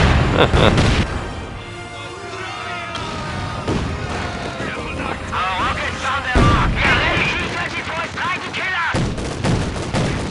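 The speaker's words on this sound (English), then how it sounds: "Alright, where is that bombardment? Yeah, there it is." Artillery bombardment in the World War II strategy game Company of Heroes 2, with repeated loud booming impacts and rumbling blasts spread across the stretch, dense and continuous, some heavier hits near the start and end.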